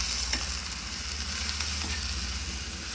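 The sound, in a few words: garlic, coriander and flour masala roasting in pan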